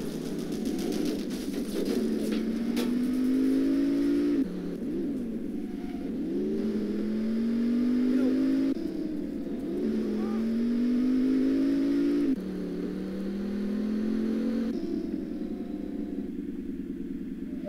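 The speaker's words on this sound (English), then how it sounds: "What's that little car doing?" A small car in a video game driving in circles, its engine whining up and down in a repeating rise-and-fall pattern as it loops, steady and fairly close.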